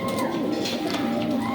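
A pigeon coos in a fancier's loft, soft repeated rolling calls close by, over a low murmur of other birds and livestock, with no speech.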